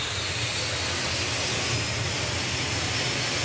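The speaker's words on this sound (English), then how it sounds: "Rolls-Royce Viper 535 jet engine" A Rolls-Royce Viper 535 jet engine mounted on a 1950s VW pickup roars steadily at a drag racing event, a loud continuous broadband blast with no break.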